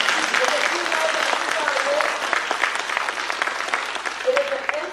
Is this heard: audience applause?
yes